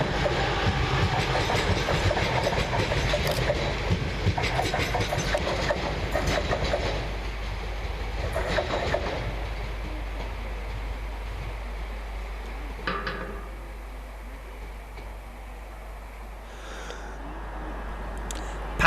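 A class 323 electric train runs through Barnt Green station, a loud steady rumble and clatter of wheels on rails that fades gradually as the train passes, with no talk over it.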